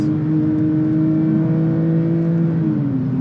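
A Porsche 911 GT3 Touring engine holds a loud, sustained high rev with a smooth steady drone, easing slightly toward the end, heard alone with no talk.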